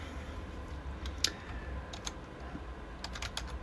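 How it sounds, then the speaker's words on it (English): Keys on a computer keyboard tap out in scattered, irregular bursts, close and fairly quiet over a low room hum, with a short flurry near the end and no voices. "So I'm going to type in here."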